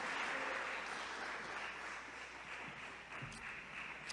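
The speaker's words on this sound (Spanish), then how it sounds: "Dale un fuerte aplauso al Señor. Dale un fuerte, fuerte aplauso" A church congregation claps loudly and steadily for the Lord during an evangelist's sermon, a dense wash of applause filling the room with no voices over it.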